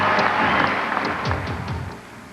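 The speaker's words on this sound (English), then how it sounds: "The minute Kevin Costner walked through the door, they were all cheering" A crowd cheers and applauds as Kevin Costner arrives at a hometown alumni basketball game benefiting a school program, a dense, steady roar of clapping and voices with a few louder shouts rising through it.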